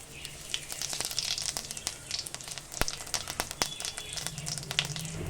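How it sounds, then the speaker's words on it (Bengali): Cumin seeds tempering in hot oil in a wok, giving a steady crackling sizzle with frequent sharp pops throughout, close and fairly quiet, with no talk. "এবার চলো কড়াইতে একটু জিরেটা ফোড়ন দিয়ে দিই"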